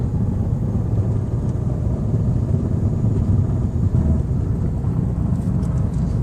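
A 2013 Dodge Dart on the road gives a constant low engine and road rumble from inside the cabin, steady and moderately loud with no talking.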